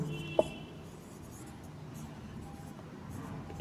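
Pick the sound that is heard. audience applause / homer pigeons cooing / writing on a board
writing on a board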